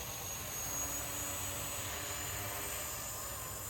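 A Blade 230s Smart v2 RC helicopter flies high overhead, giving a steady, even rotor and motor whine with no pauses and no voices.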